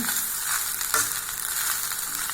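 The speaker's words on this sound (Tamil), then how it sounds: "நல்லா கிளறிட்டுங்க" Egg fried rice is stirred in a hot pan, a soft continuous sizzle with faint scraping and turning sounds, close and steady, with no talking.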